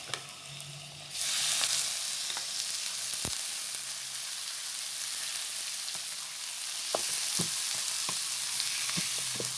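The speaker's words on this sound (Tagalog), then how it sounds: "Let it stir up until the pork change the color" Pork frying with softened onion in a pan for menudo: sizzling jumps up loud after a quiet start, then holds steady, broken by sharp scraping and clicking stirs, close by.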